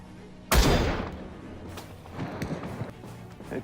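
A single loud sniper gunshot-like blast in a video game rings out and decays, followed by quieter thumps and rumbling activity in the background.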